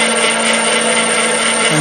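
Metal lathe turning at about 320 RPM with a long aluminium stick-out, giving a steady, loud mechanical whir and hum with a constant tonal whine and no talk.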